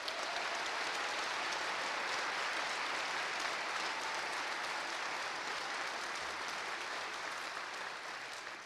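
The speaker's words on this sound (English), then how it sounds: "Please give them a round of applause." Graduates at a spring law school commencement ceremony receive steady, sustained applause from a large audience, an even wash of clapping that stays level for several seconds and tapers slightly at the end.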